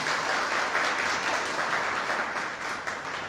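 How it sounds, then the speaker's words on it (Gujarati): Audience applause at a youth book-discussion event, a dense, steady wash of many hands clapping at full volume for the whole stretch with no speech over it. "આપણે સાક્ષી માટે જોરદાર તાળીઓ પાડીએ"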